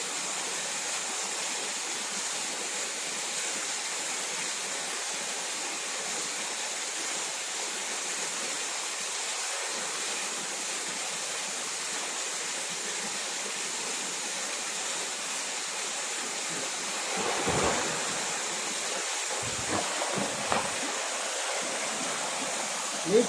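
The Pullaveli waterfall gives a continuous broadband rush of falling water, steady and fairly loud, with a few brief splashes or knocks close by toward the end.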